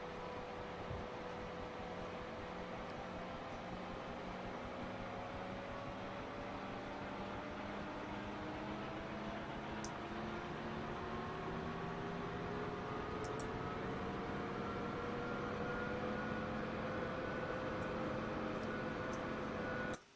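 Steady, loud helicopter engine drone from a helicopter flight game, a continuous rotor hum with slowly rising tones that holds evenly for about twenty seconds, with no voices over it.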